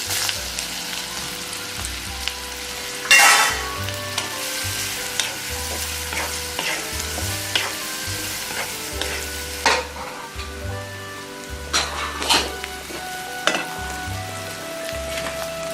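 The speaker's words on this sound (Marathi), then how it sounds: "आपला कांदा इथे छान परतला गेला आहे" Finely chopped onion fries in a pan with turmeric and red chilli for a Konkan-style cashew usal gravy. A continuous sizzle carries repeated scraping stirs and a louder clatter near the start. Close, with no voices.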